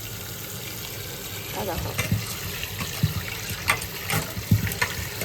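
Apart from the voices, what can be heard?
water rinsing lentils (dal) for homemade dosa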